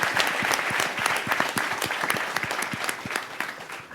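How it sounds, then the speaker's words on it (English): An audience claps steadily for XO House at a music industry panel, a dense, continuous round of applause from a roomful of people, fairly close and without talk over it. "So once again, a round of applause for XO House."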